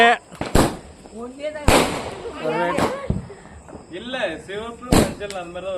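Diwali firecrackers going off: several sharp, loud bangs burst at irregular intervals while people talk and call out throughout.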